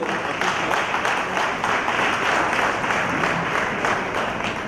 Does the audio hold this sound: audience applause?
yes